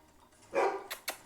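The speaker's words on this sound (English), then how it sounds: "The dogs are barking." A dog barks a few times close by, one longer bark followed by two short sharp ones.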